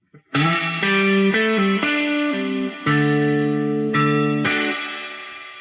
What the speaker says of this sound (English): You can almost hear the reverb move.